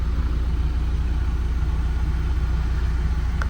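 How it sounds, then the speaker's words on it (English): V12 BMW 750 with a check engine light on, running at idle with a low, even exhaust purr, steady and close. "as you can hear that exhaust purring"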